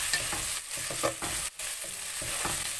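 Mint and coriander leaves being stirred through hot oil in a pan, a steady crackling sizzle broken by scraping stirs and a brief pause, close and fairly quiet with no talk.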